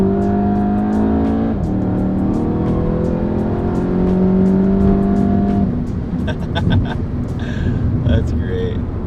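VW GTI with a Unitronic Stage 1 ECU and TCU tune, traction control off, revving hard in second gear with wheelspin, then a pause as it hooks up and shifts into third, with tire chirps, heard from inside the car under talk.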